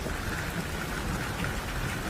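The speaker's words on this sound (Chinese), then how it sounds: "哟，下雨了，下雨了！" Rain falls steadily, a dense constant hiss of drops on surfaces, loud and close, with no voices.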